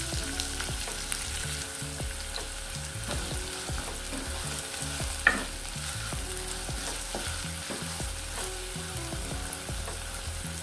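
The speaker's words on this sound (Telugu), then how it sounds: "ఉల్లిగడ్డ కాస్త వేగాలి." Thinly sliced onions fry in a pan with a steady, dense sizzle and crackle, close and even throughout, broken by occasional soft clinks of stirring.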